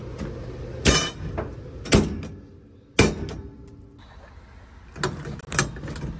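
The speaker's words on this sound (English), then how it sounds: "Couple swings from the hammer is all she wanted." A hammer strikes a padlock on a storage container door to break it off, giving three sharp metallic blows with a few lighter clinks and bangs afterward, close by.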